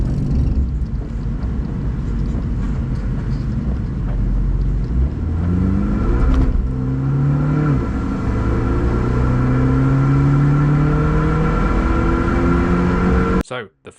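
A car driving a solo lap of the Nürburgring track among tourist traffic, its engine droning loud and steady with rising and falling pitch as it accelerates through gears, with wind and road rumble throughout, then cutting off abruptly at the end.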